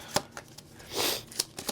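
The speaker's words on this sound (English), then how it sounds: "try to switch it up with the shuffling here" Tarot cards are shuffled by hand, giving quick crisp riffles and taps in an irregular rhythm with a longer ruffling burst in the middle, close and moderately quiet.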